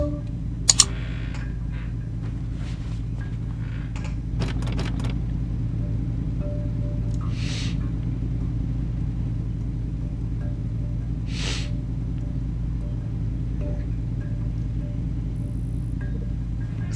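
A 1973 Ford XB Falcon V8 from Forza Motorsport 6 idles with a steady, deep rumble that holds evenly throughout, with a few light clicks near the start and no talking.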